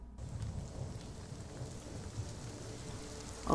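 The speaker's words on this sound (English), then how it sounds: "Is it raining?" Steady rain pours outdoors during a thunderstorm, a dense, fairly faint hiss of drops with low thunder rumbling underneath throughout, and no voices.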